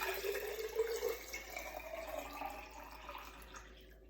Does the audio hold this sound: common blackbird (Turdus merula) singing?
no